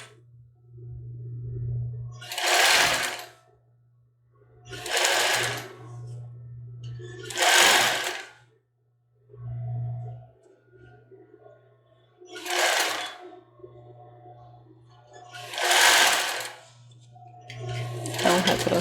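Sewing machine stitching a cropped top, six loud close bursts of rapid mechanical whirring separated by pauses, with a low motor hum between runs.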